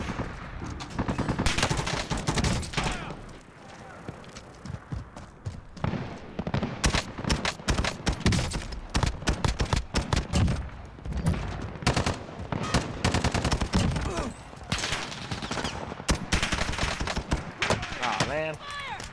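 Dense gunfire and machine-gun bursts from a video game, loud and nearly continuous, with rapid rattling volleys and shots stacking one on another throughout.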